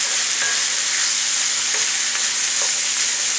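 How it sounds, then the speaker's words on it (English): Chopped onions fry in a pan with a steady, loud, close sizzle, broken by a few soft scrapes of stirring throughout. "as I add it and stir it and cook it down"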